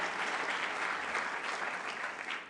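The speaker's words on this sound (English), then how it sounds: "Give this great leadership team a round of applause" A large crowd at a political winter meeting applauds, a fairly faint, even wash of many hands clapping that holds steady throughout the short stretch.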